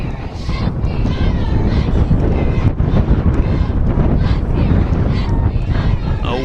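Wind blasts across the microphone at an outdoor 2019 high school varsity football game, Hornell Red Raiders at Geneva Panthers, a loud continuous rumbling roar with gusty fluctuations, and a voice speaking intermittently underneath.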